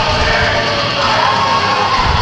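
Loud wrestling crowd cheering inside the building at a TWF show, a dense sustained roar of shouts and whoops, close and continuous throughout.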